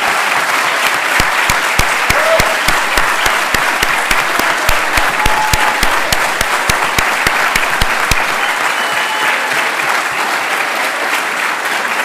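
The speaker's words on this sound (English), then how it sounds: "I would like all the other people in this room to give a big applause to these graduates" Audience in a room at a graduation ceremony gives sustained applause for graduates, dense steady clapping with sharper individual claps standing out, loud and continuous throughout with no talking.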